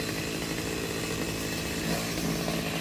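Chainsaw runs steadily near a lake, cutting a Melaleuca tree into small pieces; the engine drones loud and close without a break, with no talking.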